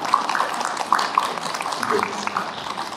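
Dense, steady crowd applause fills the whole stretch, a large audience at a climate citizens' policy group launch ceremony clapping together at an even, moderate level.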